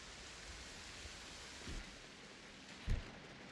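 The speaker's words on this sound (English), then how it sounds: "That's a very good rain sound effect." Steady broadband rain hiss in the survival game Project Zomboid, a soft continuous downpour with two brief low thumps partway through, no voices.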